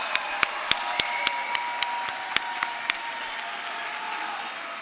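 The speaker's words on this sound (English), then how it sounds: "Give them a round of applause." An audience at a TWU graduation ceremony applauds, a soft continuous wash of many hands heard from a distance, with a few sharper individual claps standing out early on before the sound settles into a steady hum.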